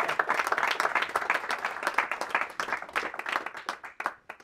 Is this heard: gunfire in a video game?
no